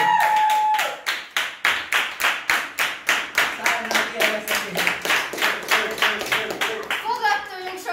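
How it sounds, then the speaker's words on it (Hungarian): A crowd claps in a rhythmic, steady beat for a freshman named the top newcomer at a freshman-day event in Békéscsaba, the even claps loud and close, with a brief voice at the start and chatter near the end. "Nagy tapsot!"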